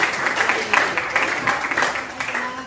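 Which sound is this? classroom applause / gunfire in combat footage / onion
classroom applause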